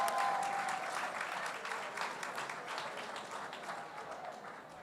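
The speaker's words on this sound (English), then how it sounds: "Give yourselves a round of applause." Attendees at the South Bronx United annual benefit applaud themselves, a quiet, distant patter of many hands that starts a bit stronger and gradually tapers off.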